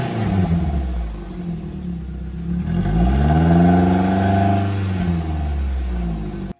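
An old, much-resold minivan's engine revs as the accelerator is pressed, rising from a steady idle rumble to a loud, swelling roar around the middle before easing back down, close by with no talking.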